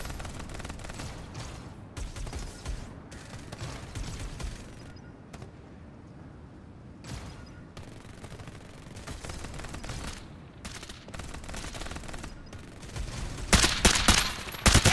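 Sustained gunfire in the battle royale video game Farlight 84, dense bursts of automatic weapon fire and shots that rise to a louder, heavier volley near the end.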